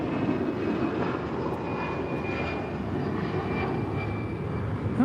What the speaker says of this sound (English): Now departing to Dallas Love Field. It's Delta 2824 on an A319.